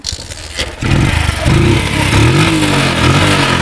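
A Bajaj CT 100 motorcycle engine idles and revs up close, a steady loud mid-range engine drone that rises after the first second and holds with small pitch swells, no talk.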